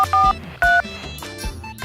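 A phone number is dialed on a handset, giving a quick series of bright keypad tones with short beeps and small clicks between them, near and clear.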